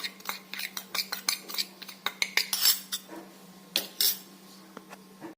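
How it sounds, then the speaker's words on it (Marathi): Spiced green chilli mixture stirred in a pan, a series of sharp metallic spoon clinks and scrapes against the pan at an irregular rhythm, close, with a faint steady hum beneath. "हे सगळं मिश्रण छान एकत्र करायचं"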